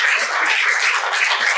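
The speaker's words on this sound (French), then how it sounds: "Que vous applaudissez." Audience applauds to welcome a guest on stage, a short continuous wash of many hands clapping at steady loudness, no voices heard.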